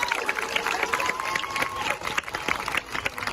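Audience clapping for musicians at a live event, a dense, steady patter of many hands with a sustained tone held above it, going on for several seconds.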